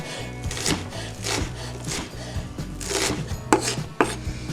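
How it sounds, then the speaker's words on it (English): A knife chops onions on a board with quick, close, hard knocks in an uneven rhythm, a few sharper strikes near the end, over a low background hum and no talking. "We're gonna get into cutting our onions now."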